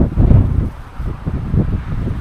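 Wind gusts buffet the microphone at a lakeside bicycle campsite in Gölköy, Bolu, Turkey, in low, uneven rumbling bursts, rising and falling over a couple of seconds.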